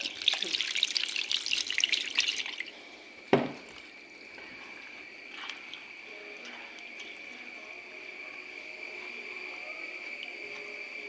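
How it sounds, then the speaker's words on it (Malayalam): Water poured into a tuna fish curry in a home kitchen, a brief close splash and rush of liquid at the start, then a sharp clunk and a quiet, steady background hum. "പിന്നെ വെള്ളം ഒഴിക്കുക."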